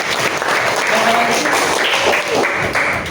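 A classroom group claps steadily in a dense, loud burst of applause, with a brief voice mixed into the clapping.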